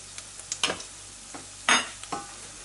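Onions and flour frying in a pan, with a few scraping stirs and short bursts of sizzling against a quiet background.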